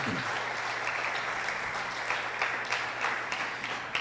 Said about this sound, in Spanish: ¿Cuántos le dan un aplauso a Dios esta mañana?